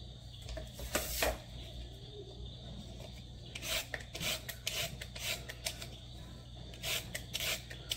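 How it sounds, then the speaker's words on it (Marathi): A carrot is scraped and grated by hand for a sandwich, heard as repeated raspy rubbing strokes in short bursts at close range over a low background hum. "गाजर किसून सोलून घेऊयात"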